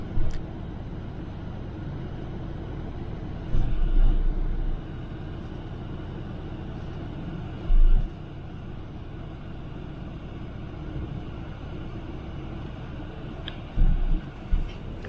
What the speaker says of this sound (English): And as quickly as I disembarked, the bus was off.